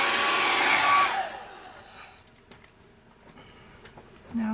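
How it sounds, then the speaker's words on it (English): A hair dryer blows alcohol ink across freezer paper loudly for about a second, then cuts off, leaving quiet handling noises and faint clicks before a brief hum. "Takes my hair dryer, blow it around a little bit"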